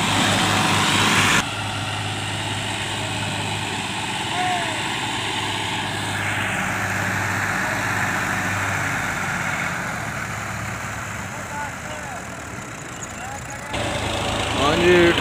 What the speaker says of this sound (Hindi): बस जी 65 हॉर्स पावर तो जा रहा, ट्राली हो गई निकल